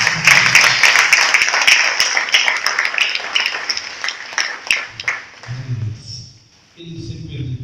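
A church congregation claps during a Portuguese-language service, loud dense applause with sharp individual claps at first, thinning and fading toward the end as a voice speaks over the room.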